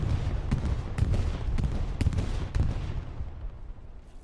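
Heavy booming bombardment from a bombing run in the World War II shooter Hell Let Loose: a dense rumble of repeated blasts, with sharp impacts about every half second that ease off toward the end, heard alone.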